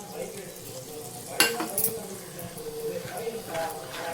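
Steady sizzling in a hot pan as ground masala with chili, coriander and turmeric powders is stirred for a fish curry, with scraping stirs and a couple of sharp utensil clinks, a soft voice murmuring in the background.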